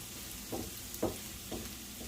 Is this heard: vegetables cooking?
yes